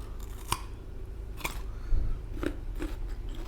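Crisp, crunchy bites and chewing of a spicy Thai pounded salad with giant squid and squid, several sharp crunches spaced about a second apart, close to the mouth.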